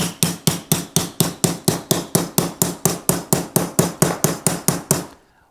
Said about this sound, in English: I'm going to hammer this down